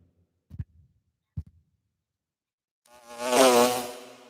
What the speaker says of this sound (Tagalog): Ayaw, may bubuyog tuloy.